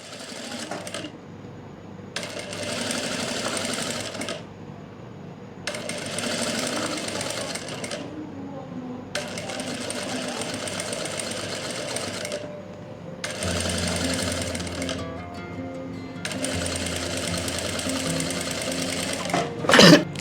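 A sewing machine stitches a folded fabric strip along its edge in several loud bursts of rapid rhythmic clatter, each a few seconds long, with short pauses between them.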